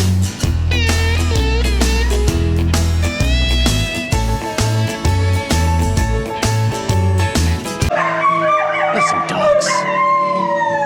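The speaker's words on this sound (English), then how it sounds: "Some dogs howling." Music plays for most of the clip, then gives way to wavering, drawn-out howls from several dogs at about 6:30 a.m. in Eureka Springs, Arkansas, in the last few seconds.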